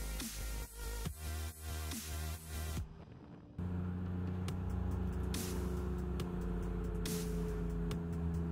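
A Japanese car climbs a mountain road, its engine a steady close drone with a shift in tone partway through, then a smoother sustained hum with occasional faint clicks.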